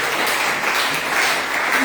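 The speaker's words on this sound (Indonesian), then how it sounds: "Kasih tepuk tangan dulu buat Tuhan." Congregation applause during a Sunday worship service at an Indonesian church, dense close clapping filling a short burst at full level.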